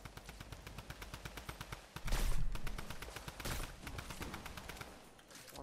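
Rapid automatic gunfire in the video game Fortnite, a steady stream of close, loud shots with a louder burst of fire and explosive clatter midway, no talking over it.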